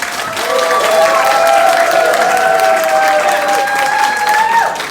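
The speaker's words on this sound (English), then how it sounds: "Give me an outstanding clap." An audience bursts into loud, sustained applause at a water demonstration event, dense clapping that swells quickly and holds steady for several seconds with a few faint whistles and cheers mixed in.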